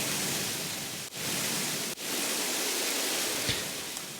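A steady, dense hiss from a shower-like noise instrument preset in Ableton Live, even and unbroken apart from two brief dropouts, with a faint click near the end and no voices.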